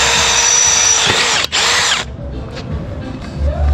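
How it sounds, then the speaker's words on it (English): A power drill bores a hole through the metal of a Volkswagen Beetle hardtail for plug welding, whining loud and steady for two seconds with a brief dip, then stopping into quiet workshop ambience. "I'm drilling a hole so I could plug weld it or rosette weld it"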